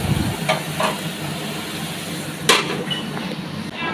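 Cumin seeds, dried red chilli, bay leaf and cardamom tempering in hot oil, a continuous moderate sizzle broken by a few sharp crackles and spoon clinks.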